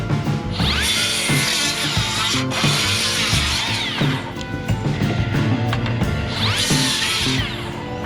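A Makita XGT cordless saw rips through wood on a house-framing site, a loud, continuous grinding whine as the blade bites through the timber, rising in two strong surges across the cut.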